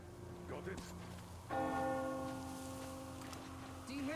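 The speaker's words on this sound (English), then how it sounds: "Do you hear that bell?" A single church bell strikes once with a long, ringing decay in a ruined post-apocalyptic setting in Metro Exodus, heard at moderate distance amid faint ambient noise and brief voice murmurs.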